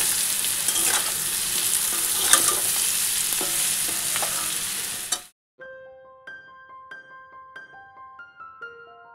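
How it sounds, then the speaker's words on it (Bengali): Fish curry with potato and taro bubbles and sizzles steadily in a pan for several seconds, a dense frying hiss that stops abruptly, followed by soft scattered clinks. "মাছের ঝোলের জন্য এই যে বসিয়ে দিয়েছি আলু আর কচু"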